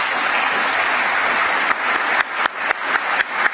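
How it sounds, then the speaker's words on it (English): A room of people at a state memorial service claps steadily, a dense patter of applause with a few sharper, louder claps near the end. "a round of applause"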